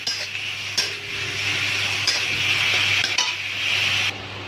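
Grated onion frying in a pan for dal makhani gives a steady hissing sizzle, with occasional clinks of a spoon stirring against the metal, close and alone without speech.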